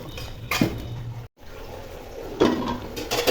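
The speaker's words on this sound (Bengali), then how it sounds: "মশলা ভাজা ভাজা হয়ে গেছে, এখন পানি দিয়ে দিব।" Water is poured into frying turmeric, chili, coriander and salt spices in a pan for a taki fish curry, giving two short splashing bursts over a soft background hiss.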